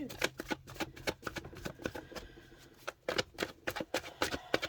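Tarot cards being shuffled by hand, a quick series of soft riffling and flicking bursts, close and fairly quiet, with no talk.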